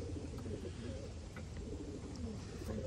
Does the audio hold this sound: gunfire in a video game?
no